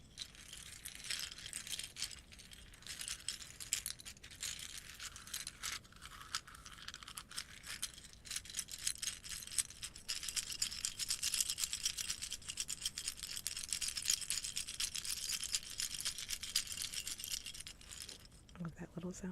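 Plastic keycaps rattle and clack almost without pause as a keyboard is cleaned, small light clicks and jangles up close, growing denser toward the end, with a brief low thump at the very end.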